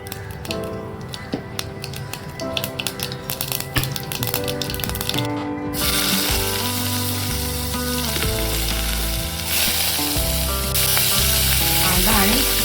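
Mustard seeds hit two tablespoons of hot oil in a pan and burst into a loud, dense sizzle with rapid crackling pops, growing steadier and broader partway through and continuing unbroken with no voices.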